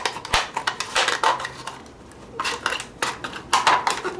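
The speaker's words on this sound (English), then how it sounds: "I'm going to slice it down the middle" A plastic cup being sliced down the middle to wrap around a fig tree branch for air layering, a series of close crackling, clicking snips and scrapes in short bursts separated by brief pauses, with no talking.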